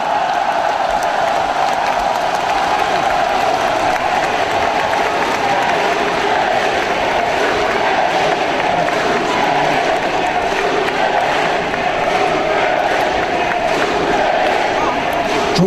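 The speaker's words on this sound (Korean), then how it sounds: "뜨거운 박수로 맞아주십시오" A large crowd at a Korean political party primary rally in Gwangju applauds and cheers steadily, loud and sustained, dense clapping and shouting throughout.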